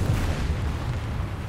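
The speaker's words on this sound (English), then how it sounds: "at least I hit something with that artillery strike" Deep, rumbling boom of an artillery strike in a war video game, a single low blast that fills the short moment and fades, no voices.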